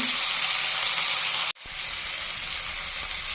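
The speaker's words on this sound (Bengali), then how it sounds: "সমস্ত মাছগুলো উল্টেছি, তো অপর দিকটা ভাজার জন্য দিয়ে দিচ্ছি।" Fish pieces sizzling in hot oil in a kadai after being flipped to fry the other side, a continuous bright hissing crackle that drops out abruptly for an instant midway, then resumes at slightly lower level.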